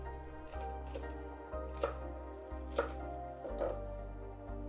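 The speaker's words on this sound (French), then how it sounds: "émincez grossièrement la coriandre" A knife coarsely chops fresh coriander on a board, about five distinct soft thuds at an unhurried, steady pace. Each cut is quiet but clear over a low background hum, with no talk.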